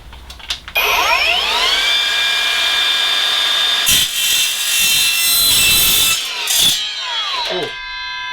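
Evolution R255SMS-DB-Li mitre saw spinning up with a rising whine, then biting through a piece of aluminium suspended-ceiling section with a loud metallic screech before winding down.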